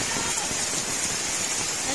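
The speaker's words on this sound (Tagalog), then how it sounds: "Malakas ang ulan." Heavy rain pours steadily in a broadband wash near a chicken coop, with a voice speaking over the downpour.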